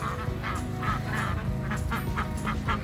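Farm ducks and geese honk and quack loudly and close together, a dense, continuous flock chorus with repeated calls and no talking.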